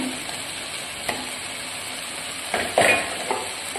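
Chili powder, turmeric, coriander and garam masala stirred into frying brinjal for a Kerala curry, a steady sizzle under faint tonal hum with a few scraping spoon strokes and light clinks toward the end.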